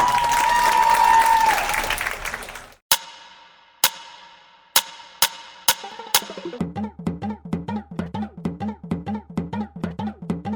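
Audience applause for a junior group performing a gondhal at a kids' Navratri show: dense, loud clapping for about three seconds, then sharp drum hits and music take over.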